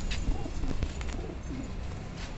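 Saharanpuri pigeons cooing in soft, low repeated coos close by, against a steady background hum with no talking.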